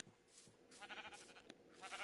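Sheep in the Minecraft video game bleat in quick succession, a few short quavering calls heard faintly with little else around them.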